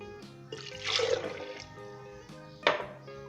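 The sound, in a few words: water being poured into a grinder jar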